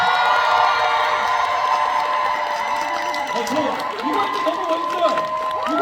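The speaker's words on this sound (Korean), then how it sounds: "박수 한번 쳐줄까요?" A crowd claps and cheers at a K-pop showcase, the applause steady and moderately loud, with shouts and whoops mixed in over a musical backdrop.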